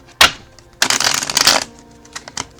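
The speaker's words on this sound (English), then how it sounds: "One more shuffle." A deck of cards is shuffled up close: a sharp snap first, then a dense, fluttering riffle lasting about a second, followed by a few soft taps as the cards settle.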